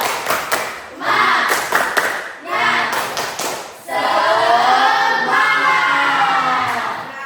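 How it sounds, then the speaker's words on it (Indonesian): A classroom of pupils performs a rhythmic spirit clap, bursts of group clapping and thumps mixed with children's voices, the second half swelling into sustained loud cheering and chanting. "Coba kita tepuk semangat dulu ya"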